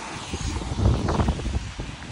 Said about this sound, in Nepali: अब यताबाट हावा लगाइरहेको